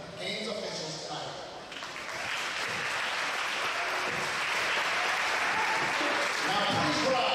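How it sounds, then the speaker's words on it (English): A gym crowd at a high school volleyball game applauds the game officials, the clapping swelling after a brief lull and then holding steady, broad and slightly distant, with voices faintly underneath. "Please join me in applause for our games officials tonight."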